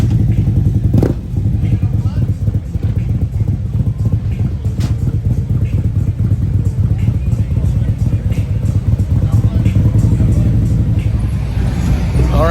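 A 2019 Harley-Davidson Street Glide is moved onto a shop lift, with a continuous low motor rumble and some clatter under nearby voices for the whole stretch.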